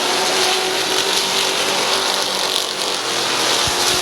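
Race cars roar around the track at Midvale Speedway, a dense, continuous wash of engine noise heard from a distance, steady and broad with no clear breaks.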